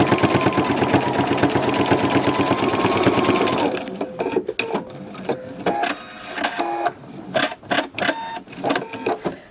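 Domestic sewing machine running steadily for several seconds while stitching a quilting seam, then short stop-start bursts of stitching with pauses between them, close and fairly loud.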